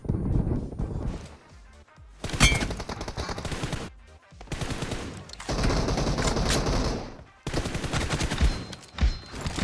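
Gunfire from the mobile battle-royale game PUBG Mobile in a 1v1 match: loud bursts of rapid automatic shots in three dense stretches separated by brief lulls, with quieter clatter between volleys.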